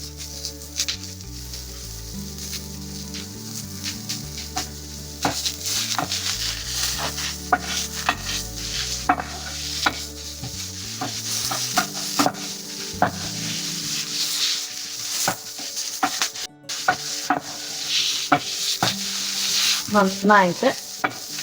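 Sliced onion with a pinch of salt sizzles and is stirred steadily in a pan, a continuous close frying hiss with scraping strokes of the spoon; someone speaks briefly near the end.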